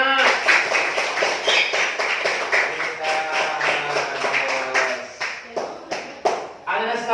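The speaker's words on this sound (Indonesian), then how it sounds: "tepuk tangan semuanya" A class of schoolchildren claps in an Indonesian classroom, a close run of rhythmic rounds that later breaks into scattered, uneven claps, with voices mixed in.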